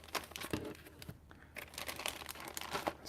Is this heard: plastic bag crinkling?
yes